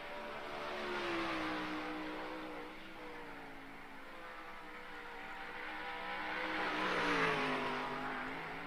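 A sprint car powers off a dirt-track corner during practice, its engine roaring and surging as it swells closer, fades slightly, then builds again in a loud, sustained howl with no talk.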